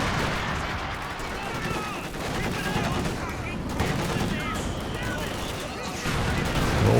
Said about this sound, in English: we've got double infantry support guns going to war with double Soviet mortars